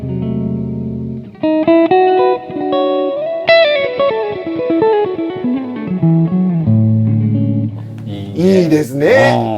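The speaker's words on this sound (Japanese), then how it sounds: "このダンブルとかの時代にはなかったリバーブですね" An electric guitar played through an amp-style pedal on its plate reverb setting, a melodic line of sustained notes with a lush, lingering tail, followed by a brief burst of talking.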